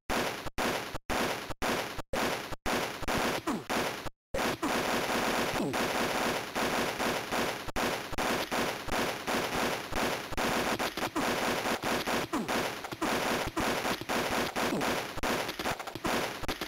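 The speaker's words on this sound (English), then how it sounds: "An auto rifle." A Game Boy Color auto rifle from Army Men fires almost nonstop, a dense stream of harsh, buzzy chiptune shots with a few brief stutters early and one short gap, loud and alone throughout.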